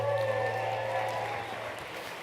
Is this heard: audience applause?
yes